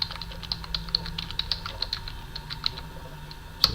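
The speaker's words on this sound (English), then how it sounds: "You would just basically type your note" Typing a note on a computer keyboard, with a steady run of light, evenly spaced key clicks close by and a sharper, louder keystroke near the end, over a faint low background hum.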